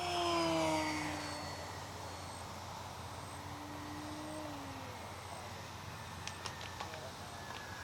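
A HobbyKing Durafly Excalibur Warmliner RC plane makes a low inverted pass, its small electric motor whine rising then fading with a Doppler sweep as it flies by, over steady outdoor wind noise.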